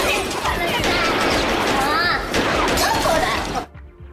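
Rapid bursts of gunfire in a film scene, a girl and her father caught in indiscriminate shooting, loud dense crackling volleys with voices mixed in, cutting off abruptly near the end.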